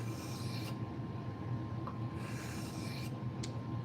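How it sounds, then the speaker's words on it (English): A kitchen knife drawn across a sharpening stone gives a steady, close rasping scrape that runs continuously with small shifts in stroke. "I'm sharpening now."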